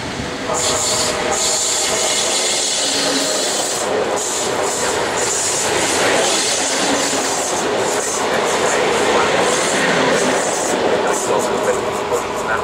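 A train rolls into an Italian station platform with steady rumbling and clattering wheels, faint hiss and squeal, and a station announcement voice talking over it throughout.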